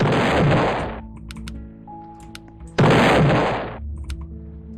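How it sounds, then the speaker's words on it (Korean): Two booming shotgun-style blasts in Roblox Lumber Tycoon 2, a couple of seconds apart, each with a long ringing decay, loud and close, with faint game effects between them. "총소리 소리 같아 아, 약간 샷건 소리?"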